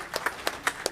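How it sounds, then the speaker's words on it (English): A handful of separate hand claps ring out in quick, uneven succession, fairly faint, as a conference audience at an amateur satellite symposium begins applauding a speaker. "A round of applause for Jerry"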